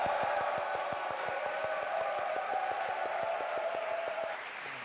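Soldiers and the congregation of the Republic of Korea Air Force 10th Fighter Wing's Suwon base church applaud together: loud, sustained clapping from a large indoor crowd with a steady, rhythmic beat that fades slightly at the end.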